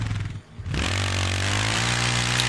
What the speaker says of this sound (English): the quad actually sounds decent